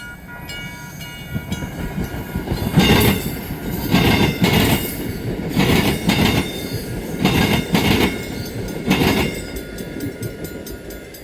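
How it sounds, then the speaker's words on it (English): An inbound South Shore Line commuter train rumbles close by at the Michigan City diamonds, wheels banging in rhythmic bursts as each car rattles over the crossing, with metallic squeals ringing above. "An inbound South Shore train rattles over the crossheads next."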